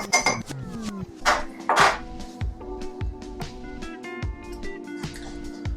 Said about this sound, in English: we're stirring until it's just combined